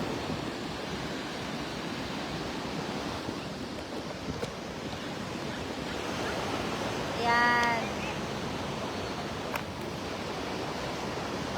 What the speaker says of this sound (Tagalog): Maingay yung dagat.